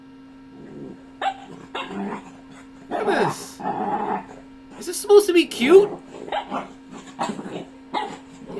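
Small dogs barking, yipping and growling indoors in a household with several dogs, with bursts of yaps over steady background hum while a person talks over them.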